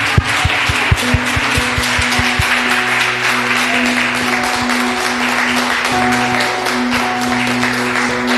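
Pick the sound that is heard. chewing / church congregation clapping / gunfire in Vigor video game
church congregation clapping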